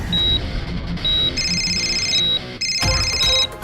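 An electronic phone ringtone trills in repeated short bursts of beeping tones, close and fairly loud over a low background.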